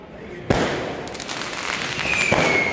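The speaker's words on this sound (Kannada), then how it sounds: "ಇವರೆಲ್ಲ ಪಟಾಕಿ ಗೈಸ್" Firecrackers burst across Bengaluru during RCB title celebrations, a sharp crack followed by crackling bangs and a whistling rocket over a busy outdoor din, moderately loud.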